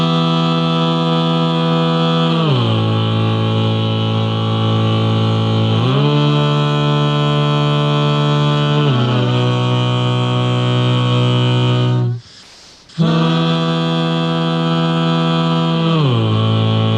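Sustained chords of a 2-5-1-6 progression, played for a choir, ring loud and smooth, each chord held a few seconds before sliding to the next, with one brief break before the last change.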